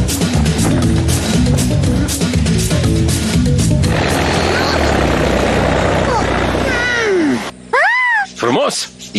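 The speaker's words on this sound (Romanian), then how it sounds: "e avionul lui Bacalife, braconierul" A cartoon poacher's airplane droning loudly along, its engine hum running under excited voices, then a sudden silence followed by warbling sliding tones near the end.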